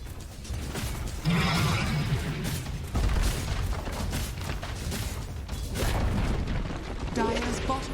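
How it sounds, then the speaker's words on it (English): A tower collapsing in a Dota 2 match: heavy rumbling booms and crashing debris amid dense battle noise, with a commentator talking over it. "tower has fallen"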